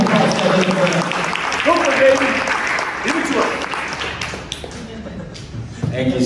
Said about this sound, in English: Let's give a round of applause for the word of the Lord